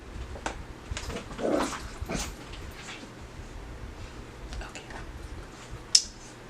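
A dog whining and yelping indoors, with a few short whimpers and one sharp yip near the end, fairly faint against the quiet room.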